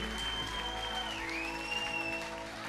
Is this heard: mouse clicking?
no